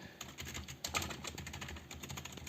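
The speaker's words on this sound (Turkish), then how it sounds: "45-50 lira bandındaki bütün klavyelerdeki ses bu" Typing on a Piranha computer keyboard: rapid, close keystrokes clicking in an uneven stream with no pauses, fairly quiet and alone.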